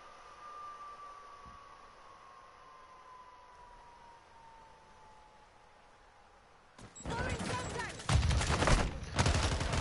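RPK machine gun firing in Call of Duty: Modern Warfare II, loud rapid bursts starting suddenly after a quiet stretch of faint background tone, continuing in short repeated volleys to the end.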